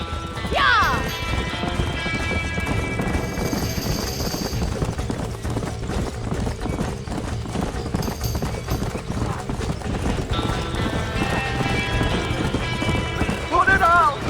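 Horses whinny in panic and their hooves clatter inside a burning barn in the video game Red Dead Redemption, with a dense roar of fire and commotion and voices shouting nearby.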